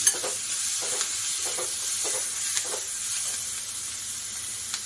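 Onion and tomato sauté in a pan with a steady sizzle, while a spoon scrapes through it in repeated stirring strokes every half second or so, close and moderately loud, with no talking.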